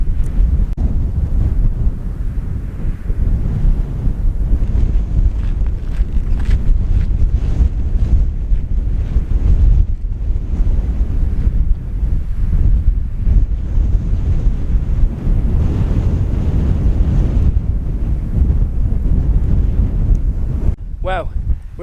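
Strong wind buffets and roars across the microphone on the exposed top of Kinder Scout in the Peak District, a continuous loud rumble with gusty surges throughout and no pauses.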